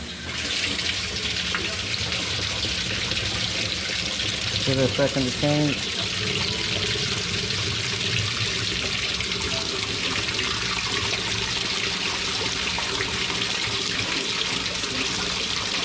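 Hot water pours from a tap on a used appliance under test, a steady close rushing hiss throughout, with brief talk over it early on.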